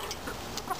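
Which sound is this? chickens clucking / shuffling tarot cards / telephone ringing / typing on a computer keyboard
chickens clucking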